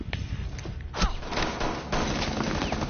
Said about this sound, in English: Chris, do you hear my gun?